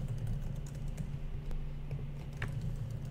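Typing on a computer keyboard while filling in a website contact form, a steady stream of soft, close key clicks with an irregular rhythm over a low background hum.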